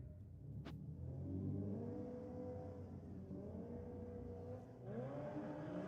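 An HSV drag racing car launches off the start line at a Sydney drag strip, its engine rising in pitch as it accelerates away, heard from a distance over a steady crowd and track murmur.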